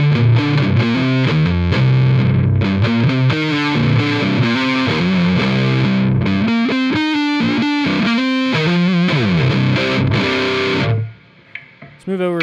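Heavily distorted stoner-rock electric guitar riffs from Gibson Custombucker pickups played through an Orange amp, loud and chugging with rhythmic chord hits and sustained notes, stopping abruptly near the end and leaving a short quiet tail.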